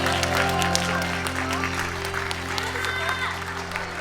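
Parents at a children's learning festival applaud steadily as the kids leave the stage, a continuous moderate clapping over a sustained musical tone with a voice briefly audible.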